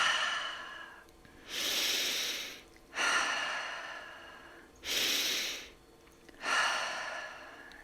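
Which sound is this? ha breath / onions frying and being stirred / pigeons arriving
ha breath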